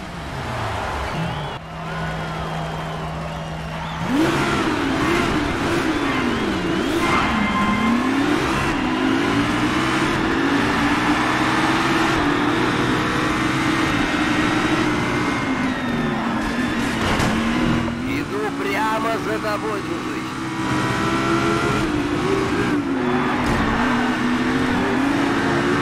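Race car engine in Race Driver: GRID, a Dodge Motor City Cup race at extreme difficulty, revving and shifting through gears continuously, loud and close, with pitch rising and falling as the car accelerates and brakes through corners.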